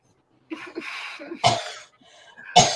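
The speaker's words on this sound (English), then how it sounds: "who's coughing?" Several harsh coughs in quick bursts, one early cluster followed by two louder, sharper coughs, fairly close with no talking.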